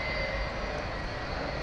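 A 30-year-old airplane at DFW Airport, a steady broadband engine roar held at constant level, fairly distant and moderate.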